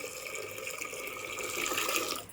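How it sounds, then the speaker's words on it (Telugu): Water pours steadily into a pot of mango dal being cooked, a continuous close splashing that swells slightly toward the end before stopping. "ఇవన్నీ నీళ్ళు పోసుకుందాం సరిపడా నీళ్ళు పోసేసుకుందాం"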